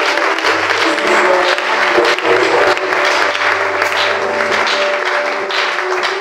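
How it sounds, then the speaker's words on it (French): A church congregation applauding loudly, dense sustained clapping from a large crowd close by, continuing without a break. "Si nous le sommes, acclamons fort."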